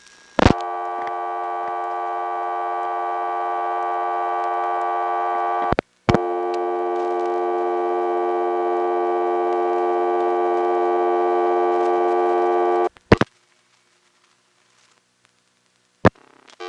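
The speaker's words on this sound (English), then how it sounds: "again we get the reorder, but this time you hear it sliding over to the 11th terminal" On an XY step telephone switch, a steady buzzing telephone reorder tone plays, broken by sharp clicks as the switch slides over to another terminal, then cuts out to near silence with a few isolated clicks.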